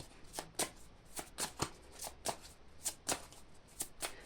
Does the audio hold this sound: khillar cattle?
no